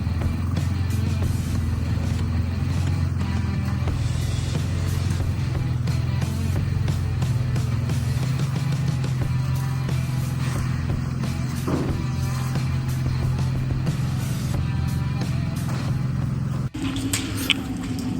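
A wrecked BMW M4 Competition with a damaged exhaust idles nearby, its loud, steady, rough rumble droning without a break before cutting off sharply near the end.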